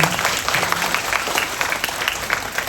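An audience at a product presentation claps in steady, dense applause that runs throughout the short moment without pause.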